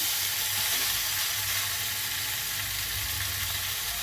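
Food sizzling and frying in a pan while being stirred, a steady loud crackling hiss close to the microphone with faint scraping, no talking.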